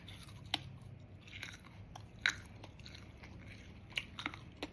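Jackfruit being eaten with miang, heard as quiet, sparse close-up bites and chewing clicks over faint background, with a few sharper crunchy snaps spread across the moments.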